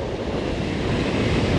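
Big waves and strong wind on a shoreline during shore fishing: a steady, loud broadband roar of surf with wind buffeting the microphone throughout, no voices.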